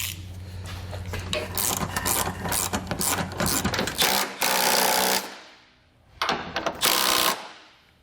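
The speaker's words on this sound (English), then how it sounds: "we're going to take our 20mm socket here, and what we're going to do is we're going to tighten up those four nuts here that are around the bumper beam" A 20mm socket wrench ratchets in quick rhythmic bursts as it tightens nuts on the bumper beam of a 2019 Audi A5, close and clear, pausing briefly before a final short run of clicks.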